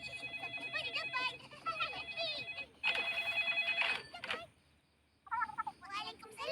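A telephone rings in the Upin Ipin cartoon, repeated trilling bell bursts mixed with children's chattering voices, loud and close, pausing briefly before ringing again.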